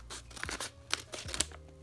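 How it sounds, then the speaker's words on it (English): Scissors snip through a paper squishy blind bag marked with a question mark, several crisp cuts and rustles close up, with paper crinkling between snips. "let's cut open the blind bag now"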